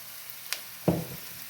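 Rice tipped into a hot oiled pan for mango rice, giving a brief burst of sizzling and frying right after a small clink, then fading over a second, close and fairly quiet with no talk.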